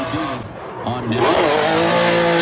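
A drift car skids with a rising tire squeal and a revving engine, loud and close, while a voice talks over the action.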